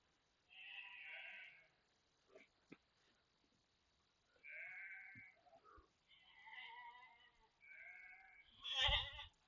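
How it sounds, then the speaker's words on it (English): Several sheep bleat in loud, wavering calls, one after another in separate bursts with short pauses, close by on a farm and with no talk over them. "I was talking to a sheep."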